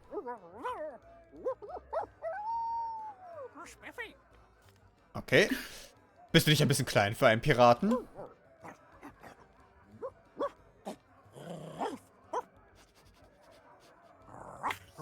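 A pirate's dog in Sea of Thieves barks and yips in short bursts, with panting sounds in between, while someone speaks German over it.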